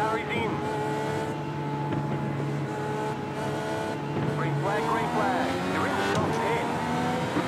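A Dallara IR-18 race car in iRacing at Motegi roars continuously at high revs, its engine pitch sweeping down through quick successive downshifts, with a commentator talking over the engine noise.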